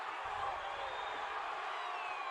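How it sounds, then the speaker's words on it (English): An MMA fight crowd roars in a steady, dense wall of cheering and yelling, loud and sustained throughout with no pauses. "Crowd is going crazy."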